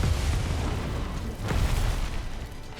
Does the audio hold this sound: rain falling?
no